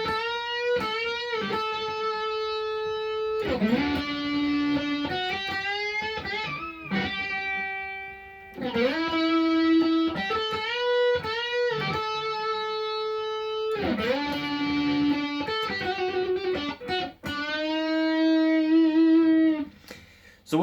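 Electric guitar with distortion playing the intro solo of a song: phrased melodic lines with slides, bends and sustained notes, separated by short pauses, close and alone with no talk.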